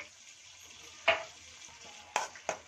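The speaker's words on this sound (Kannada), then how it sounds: "ರುಬ್ಕೊಂಡು ಬಂದಿರೋ ಹಸಿಮೆಣಸಿನಕಾಯಿ ಪೇಸ್ಟ್ ನ ಎಣ್ಣೆಗೆ ಹಾಕೋತಾ ಇದ್ದೀನಿ" Green chili paste with turmeric frying in oil, a soft hiss broken by three sharp spatula scrapes, close by and unaccompanied.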